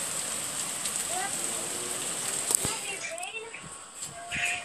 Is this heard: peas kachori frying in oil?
no